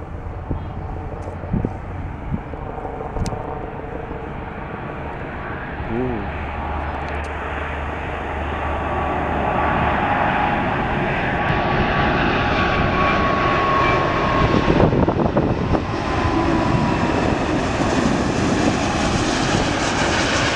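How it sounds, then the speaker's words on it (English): A four-engine Lufthansa airliner lands at Vancouver airport, its distant, broad engine roar swelling gradually and holding steady over about twenty seconds, heard alone from outdoors. "Lufthansa plane just landed."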